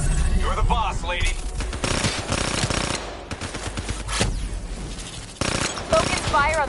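Rapid automatic gunfire from a Call of Duty Black Ops 3 firefight, dense rattling bursts in close, loud volleys with short pauses, while voices talk over the shooting.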